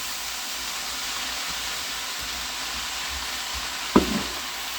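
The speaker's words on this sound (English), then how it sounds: "So at this point, we're almost like frying it." Steady broad hiss of cabbage frying in a hot pan, continuous throughout, with one brief clatter near the end.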